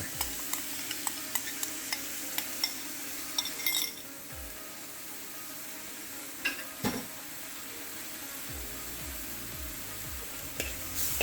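Halibut stir fry sizzling in sauce in a pan, a steady soft frying hiss broken by scattered clinks and scrapes of a utensil against the cookware.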